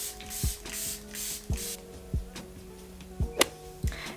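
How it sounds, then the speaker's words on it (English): Makeup setting spray spritzed from a pump bottle in several quick, close hissing bursts, followed by a few small clicks and taps from handling the bottle. "Let's try some setting spray and this look is complete."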